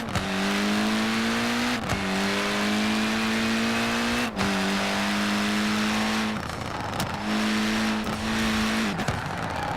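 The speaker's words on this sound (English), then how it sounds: "The anti-lag on this turbo rally motor just sounding awesome." Abarth 124 turbo rally car in Forza Horizon 4, its loud engine droning steadily near and close, revving with gear shifts and sharp anti-lag pops and crackles between them.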